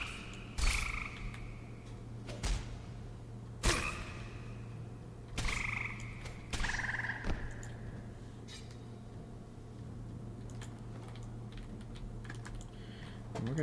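A poison river frog in a video game gives a few short croaks, scattered between sharp keyboard clicks over a steady low electrical hum.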